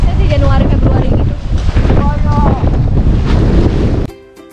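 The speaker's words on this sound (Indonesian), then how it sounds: "Mana ini juga anginnya kenceng banget dan ombaknya lumayan tinggi-tinggi ya" Strong wind buffets the microphone with a heavy roar as high waves surge around a boat at sea near Pahawang Island, Lampung, loud and close, with voices faintly under the gusts.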